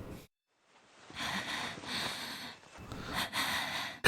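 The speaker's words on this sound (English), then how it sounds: "I heard panting in my ear" Breathy panting in the visual novel video game Chaos;Child, close and intimate, with repeated heavy exhalations in uneven bursts after a brief silence.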